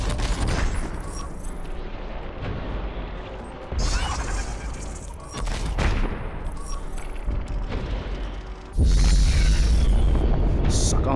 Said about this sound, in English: Send out a missile.